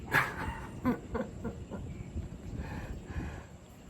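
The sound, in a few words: dog barking in the background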